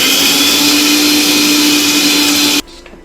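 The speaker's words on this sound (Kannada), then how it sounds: "ಇವಾಗ ಸಕ್ಕರೆನ ಪುಡಿ ಮಾಡ್ಕೊಳ್ಳೋಣ" A kitchen mixer grinding sugar into powder for chiroti, a loud steady whirring whine that runs for over two seconds and then cuts off abruptly, leaving quiet room noise.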